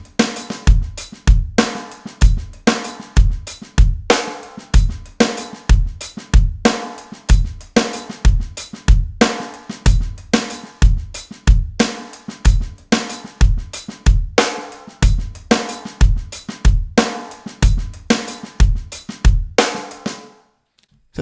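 Funk/rock drum groove at a steady tempo: a punchy kick and backbeat snare, with quiet ghosted snare strokes tucked between crisp hi-hat hits, played loud and close with no talking.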